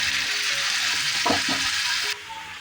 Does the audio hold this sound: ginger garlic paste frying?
yes